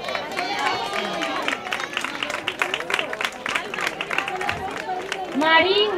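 Audience applause at an end-of-year school ceremony, steady clapping from a crowd mixed with chatter and murmuring voices, swelling slightly toward the end.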